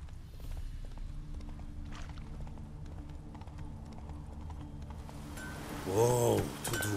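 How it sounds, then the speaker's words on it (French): Horse hooves clip-clopping at a steady trot across the ground in The Witcher 3, a moderately loud, close rhythm over a low ambient game bed, with a brief louder swell near the end. "Elle trotte vers moi."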